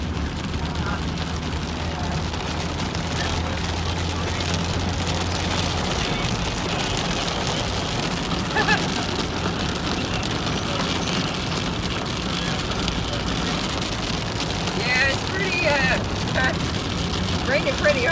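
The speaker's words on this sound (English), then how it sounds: "Raining pretty hard right now" Heavy rain drums on a car from the inside during a drive home, a dense, steady wash under low road rumble, with people talking throughout.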